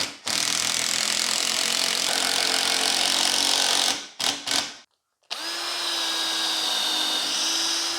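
A power drill drives a screw into wood while mounting a stair gate, a sustained whirring burst that stutters and stops, then a second steadier run.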